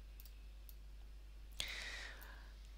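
A single crisp computer mouse click sounds near and close over a quiet steady hum, followed by a faint airy swish as something opens on screen.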